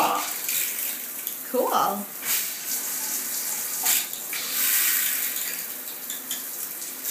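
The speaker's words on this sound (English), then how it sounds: "Turn the water on." Water rushes steadily from a newly installed Waterpik shower head with several spray settings, a continuous hiss with a few louder surges, while a person briefly speaks over it.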